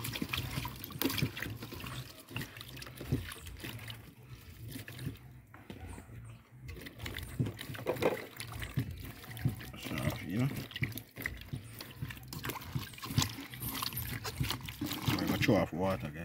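Water pours and trickles over fish being washed for steamed fish, splashing in uneven bursts under frequent talking nearby.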